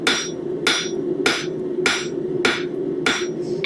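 Blacksmith hammering on a still-cool anvil face, six evenly spaced ringing strikes at a steady rhythm, close and clear with no talk.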